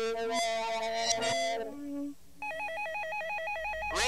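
A telephone rings in bursts, then an electronic warbling ring repeats, loud and close, with no one talking.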